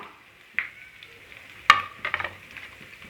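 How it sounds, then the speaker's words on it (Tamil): Cumin seeds and black pepper sputter in hot oil for a ven pongal tempering: scattered sharp pops and crackles over a quiet sizzle, with a few clustered bursts near the end and no talking. "மிளகு சீரகம்லாம் கொஞ்சம் பொரிஞ்சு வரட்டும்"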